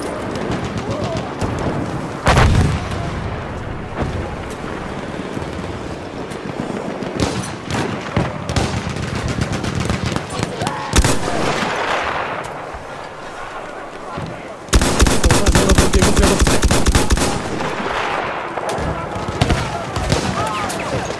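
Battlefield 1 combat plays out as dense rapid gunfire and bursts of machine-gun fire, punctuated by several loud, booming grenade explosions, with shouted in-game voices over the constant battle noise.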